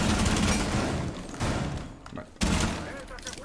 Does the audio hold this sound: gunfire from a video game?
yes